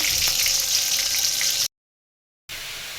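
Whole spices for a curry tempering hiss and sizzle in hot oil, a loud close crackle that cuts out abruptly to silence, then resumes briefly.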